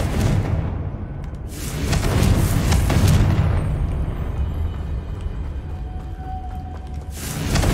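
Confringo blast spell going off in the game Hogwarts Legacy, a deep booming explosion swelling and rolling for several seconds with heavy low rumble, then tailing off before a fresh burst at the end.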